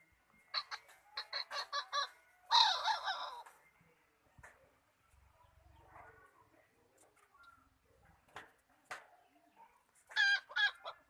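A rooster more than a year old crows in a run of loud, ringing calls early on, with one especially strong crow, then quieter scratchy clucking, and a final burst of crowing near the end.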